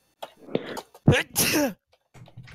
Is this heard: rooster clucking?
no